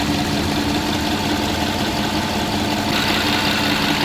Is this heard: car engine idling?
yes